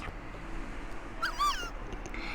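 A cat gives a short meow, close by, against a quiet room background.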